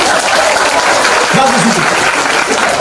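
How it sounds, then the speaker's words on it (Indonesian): Church congregation clapping in a sermon hall, a moderate wash of applause running throughout, with a voice briefly sounding beneath it partway through. "Tepuk tangan."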